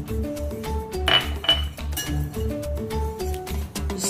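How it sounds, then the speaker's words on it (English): A few light metallic clinks of a utensil against a bowl while baking powder and flour are stirred together for puto, faint under steady background music. "Just give it a little mix."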